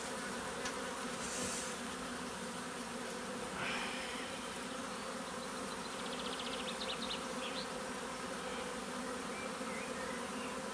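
Honeybees buzz steadily in a dense, continuous drone from clumps of bees in a hive, close and constant throughout, with faint scattered clicks.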